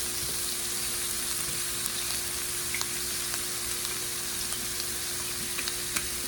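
Beef stir-frying in olive oil in a pan, a constant bright sizzle with scattered small pops and crackles as it is stirred, close and steady with no talking.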